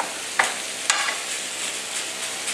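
Ground beef fries in a pan for lasagna with a steady, continuous sizzle, broken by a couple of brief scraping stirs near the start.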